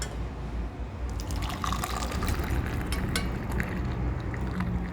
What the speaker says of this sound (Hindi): तो इधर हमने ये कप लिया है, हम इसी में इसको छान लेते हैं।